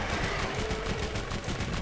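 An SMG in a shooter video game fires a rapid rattling burst, fast regular shots packed closely together and loud across the whole moment, with no voice over it.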